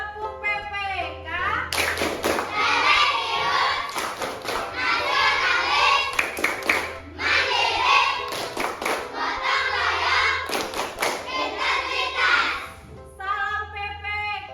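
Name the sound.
class doing the PPK rhythmic clap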